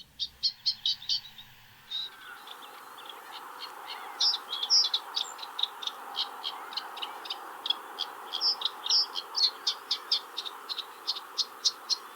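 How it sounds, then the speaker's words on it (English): A reed warbler sings at a marsh in rapid repeated chattering bursts, with bright churring notes in quick rhythm and a brief pause near the start. "In between the bursts of song from the reed warbler"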